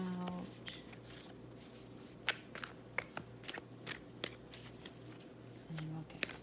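Tarot cards being shuffled and laid out: soft sharp snaps and flicks of card stock at irregular intervals, close but faint over a low background hum.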